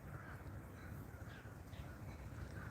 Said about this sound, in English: and bird sound and all that kind of stuff